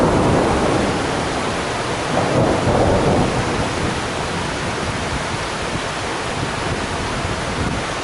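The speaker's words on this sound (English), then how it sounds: "So it's a proper thunderstorm at the moment, and Carolyn and I are just talking about" Thunder rolls in a long, continuous rumble over steady heavy rain during a thunderstorm at the Grand Canyon. The sound is loud and broad throughout, with no voices.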